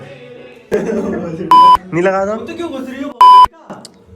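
Censor beeps over speech in an office podcast setup, two loud, flat, steady electronic tones cutting through a conversation between people talking close by.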